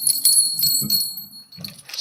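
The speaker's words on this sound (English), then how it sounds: "Speaking of incense, I have one of my chimes." Metal chimes ring with a bright, sustained shimmer of high tones that hang through the whole moment, close by, with soft low knocks and handling clatter beneath.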